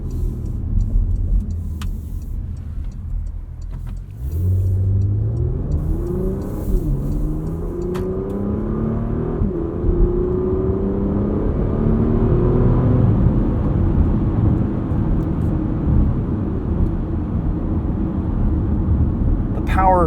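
A 2022 Porsche Macan S in Sport Plus mode accelerating hard from inside the cabin, its engine note climbing through several rising gear pulls with brief dips at each shift, loud and close throughout.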